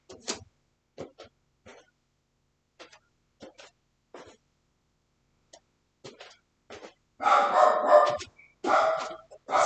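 Dogs barking inside a house at people walking past, scattered short barks at first, then a louder run of barking near the end, fairly close.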